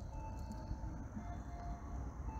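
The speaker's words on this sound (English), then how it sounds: "And we've got the train coming in." A train arrives in Ashland as a steady low rumble of rolling rail cars, heard from a distance and held at an even level throughout, with no voices over it.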